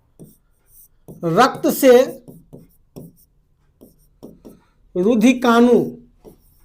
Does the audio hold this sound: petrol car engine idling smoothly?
no